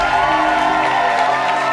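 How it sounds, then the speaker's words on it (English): A crowd at the HighLife Fest 2023 talent show cheers and applauds the top four contestants in a short, loud burst of whoops and clapping over steady music. "A round of applause for the top 4"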